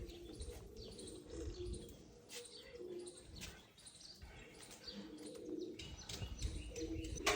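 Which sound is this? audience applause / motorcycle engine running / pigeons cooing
pigeons cooing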